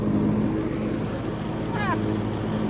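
A steady lawn mower engine drone with rumbling low tones and wind noise, the motor bogging down under load in thick, three-inch grass throughout.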